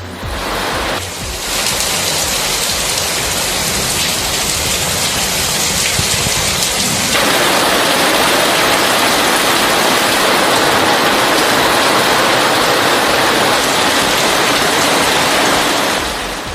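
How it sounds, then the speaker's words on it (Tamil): Heavy rain pours steadily over Dharmapuri town, a dense, continuous hiss that grows louder about halfway through; no clear thunder stands out. "தருமபுரி நகர் மற்றும் அதன் சுற்றுவட்டார பகுதிகளில் கனமழை வெளுத்து வாங்கியது"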